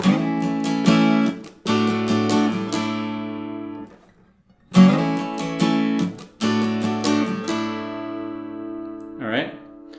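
Acoustic guitar playing the intro riff of a song, with ringing strummed chords, broken by a brief pause, then resuming; a short muffled noise near the end.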